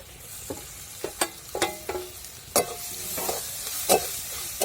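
Onion frying in a turmeric spice mix, a steady sizzle broken by repeated spatula scrapes and knocks against the pan at an uneven rhythm, close and fairly loud.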